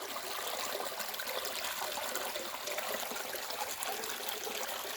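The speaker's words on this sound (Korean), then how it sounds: "공기 좋고 시원한 계곡 쪽에 나왔습니다" Water flows steadily in a cool mountain valley stream, a continuous close hiss and trickle with no voices.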